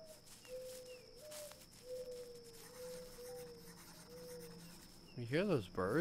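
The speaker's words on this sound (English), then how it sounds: "Hear those birds?" Birds sing in the forest ambience of the video game Walden, with short repeated chirping calls over a soft rubbing, scraping background. The sound turns to a louder warbling flurry near the end.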